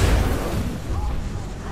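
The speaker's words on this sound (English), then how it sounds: "Exploding sounds so mean." Incendiary trap explosions in Titanfall 2 land as a heavy, rumbling blast that rolls on without a break, loud and close.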